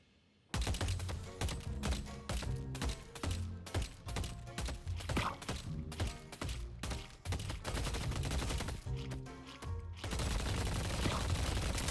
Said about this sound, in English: Have a listen to this though, as Toxic Bullets was given a new sound